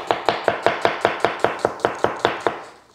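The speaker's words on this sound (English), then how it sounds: "not a big deal cutting up an onion" A knife chops through an onion on a board in a steady run of about thirteen sharp, evenly spaced close-up strokes, loud and alone, ending with a fading tail.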